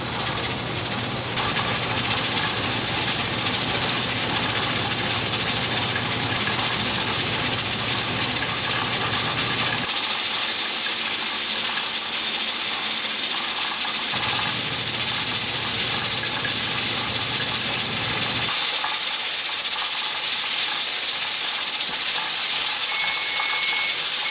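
Pressure canner loaded with field peas hissing steam on a stove, a loud constant close hiss running unbroken, with a low rumble underneath that drops out and returns.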